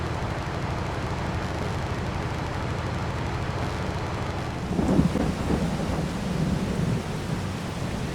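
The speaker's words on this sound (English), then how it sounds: "The rain has just started." Rain and rolling thunder in Farming Simulator 22 by a nearly finished sugar beet field: a loud, steady downpour roars throughout, with a deep thunder rumble swelling about midway.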